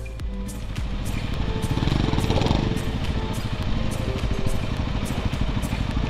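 Motorcycle engine idling and revving gently in a steady, close drone while the rider backs the bike up on a Kailash Mansarovar ride through Nepal.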